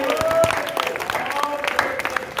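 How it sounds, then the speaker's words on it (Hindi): An audience at a Janmashtami fair festival stage show in Maholi applauds in a steady, dense burst of clapping, with a faint tonal ring from the sound system. "तालियां बजाइए"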